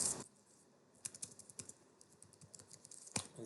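Computer keyboard typed fairly close by while entering code, soft irregular clicking keystrokes in short bursts, faint and without talk.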